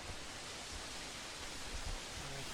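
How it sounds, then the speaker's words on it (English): Rushing water at a waterfall near Mount Revelstoke, a dense steady roar of broadband spray and churn that holds at an even level throughout, with no voices over it. "So we came to first waterfall."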